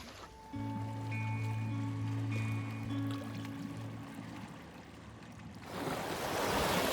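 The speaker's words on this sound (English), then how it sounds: "enjoying the sound of the lapping water" Gentle water laps at a beach shore near Slatina while a steady humming drone runs underneath, then the splashing grows louder toward the end.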